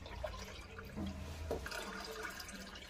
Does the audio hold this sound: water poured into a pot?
yes